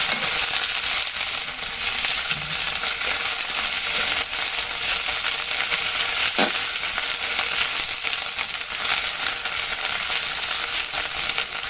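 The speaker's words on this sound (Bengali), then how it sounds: "পেঁয়াজ রসুন হালকা ভেজে নিলাম" Garlic and onion paste fries in a pan for a fish dish, giving a steady dense sizzle that runs unbroken throughout, with a single brief clink partway and no voices.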